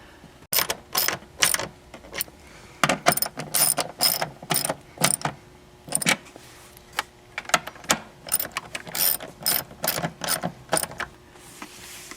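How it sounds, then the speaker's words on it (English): A 1/4-inch drive ratchet with a 10mm deep well socket snugging bolts on a C5/C6 Corvette shifter dust boot, giving loud, close clicking bursts in rapid repeated strokes with short pauses between them. "with the 10mm deep well socket and 1/4" drive ratchet. Tighten these snug"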